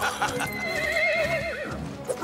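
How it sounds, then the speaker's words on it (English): A horse whinnies loudly and close by for about two seconds, its wavering, pitch-sliding call rising and falling, with faint hoof clatter and a brief voice underneath. "Catch those horses!"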